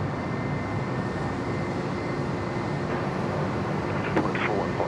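An airliner takes off at Sydney Airport with a steady, broad engine roar that holds at an even level from start to finish.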